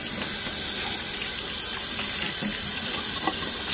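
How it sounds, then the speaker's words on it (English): Cold tap water runs steadily over a prime roast being rinsed after an apple cider vinegar soak, a constant close splashing hiss with no talk. "Now we're gonna rinse it off with cold water."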